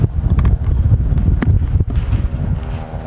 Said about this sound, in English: the wind is taking me away